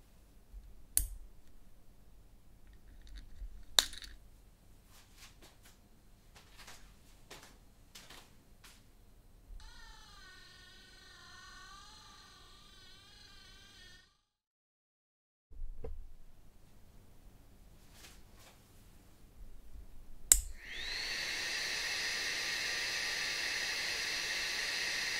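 Close to a LaserCube 2.0 laser projector, its cooling fan gives a steady whine with a wavering tone, in a quiet room with scattered faint clicks, and then a brighter, louder hiss comes in near the end.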